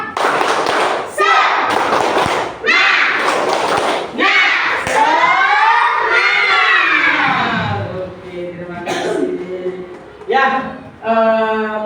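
A class of children performs the tepuk semangat chant in a classroom, loud rhythmic bursts of clapping alternating with chanted voices over the full stretch, the claps coming in short grouped patterns.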